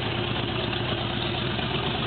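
A 1984 Corvette LT1 350 V8 idles in a steady, loud, continuous rumble, close up with no other sounds and no variation in pace.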